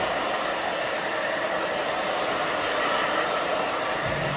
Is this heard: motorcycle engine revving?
no